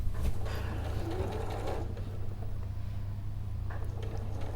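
A sewing machine runs along a fabric seam with a steady low motor hum, close and continuous, with a few faint clicks and rustles over it.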